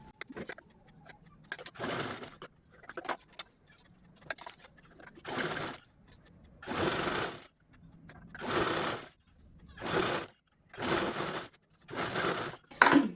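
A sewing machine stitches along fabric edges in repeated short runs, each a close whirring burst separated by pauses, with faint handling clicks early on.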